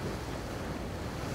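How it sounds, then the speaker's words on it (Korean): Sea swell surges against the shore at a rocky fishing point on Udo island off Jeju, making a steady, dense roar of surf and wind without a break or any voices. "너울은 점점 높아지고 있고 조류의 흐름도 좋은 상황은 아니다."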